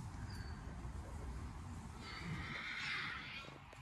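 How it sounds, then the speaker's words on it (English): Horses neighing outdoors in the Norfolk countryside, a faint, distant whinny rising over low rumbling background noise for a couple of seconds. "Horses."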